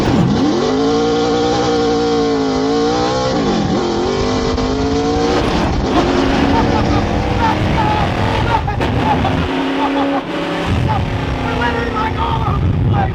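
A Nissan GT-R drives loudly at modest speed to warm its tires, its engine note rising and falling steadily with a person talking over the cabin noise.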